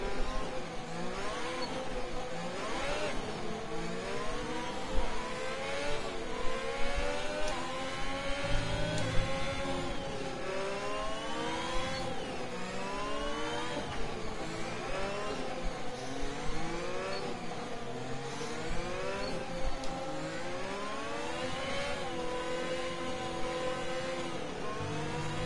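Open-wheel F1 race cars in the F1 2021 video game accelerate together at a restart, a dense, continuous roar of high-pitched engines rising and falling in pitch as they rev up through the gears, loud and close throughout.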